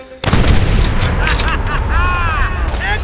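Fuel tank explosion in Call of Duty: World at War, a sudden loud boom that continues as a dense roar with crackling debris and combat noise, while voices shout over it.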